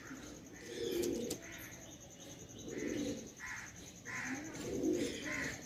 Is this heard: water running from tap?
no